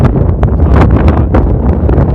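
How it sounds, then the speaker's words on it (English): Gusty wind buffets close against the microphone, a rough, rumbling roar with uneven swells and no voices. "The wind's still a bit windy."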